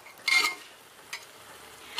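Coarse broken wheat lapshi rava roasts in ghee in a pan, with a spoon scraping and stirring in three short bursts over a faint sizzle.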